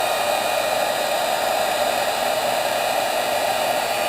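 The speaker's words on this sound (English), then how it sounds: "So I'm going to go ahead and heat set this." A heat tool blows hot air to heat set a resist, giving a loud, steady, unbroken hiss at close range with no voices and no change in pitch throughout.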